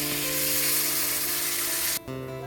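Prawns cooking with tamarind in a curry pan give a loud, steady close sizzle that cuts off abruptly near the end, leaving a quieter bubbling hiss.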